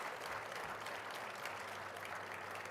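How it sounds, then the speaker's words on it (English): A convention audience applauds panelists on a farm bureau stage, a steady, fairly quiet wash of clapping that holds evenly throughout. "Let's give our panelists a round of applause"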